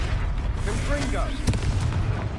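A booming magical blast from the Confringo spell in Hogwarts Legacy, one sharp burst over steady combat noise and game sound, with no talk.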